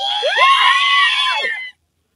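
A man lets out one long, loud, wavering shout in a mangrove forest near Pondicherry, close and piercing, lasting about a second and a half before stopping abruptly into silence.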